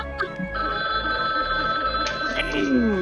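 A telephone bell rings in short repeated trills during a drunken Gartic Phone game session, loud and close, with faint voices and game sounds underneath.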